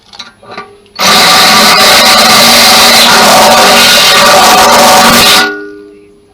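A power drill whines loudly and steadily for several seconds, with a grinding edge, then winds down to silence, drilling holes in metal for a GSXR 1000 motorcycle battery tray.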